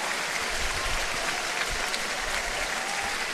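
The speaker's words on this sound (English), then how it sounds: "皆様盛大な拍手をお願いいたします。" Racecourse crowd applauding a winning jockey after the Sprinters Stakes in Japan, a broad wash of clapping and cheering heard at a distance, steady and unbroken.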